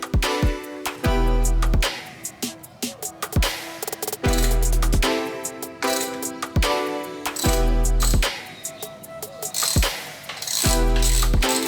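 A ratchet works the triple clamp bolts on a wrecked Ducati Panigale V4S being rebuilt as a race bike. It makes repeated bursts of rapid, close clicking, separated by brief pauses as the bolts are loosened and tightened.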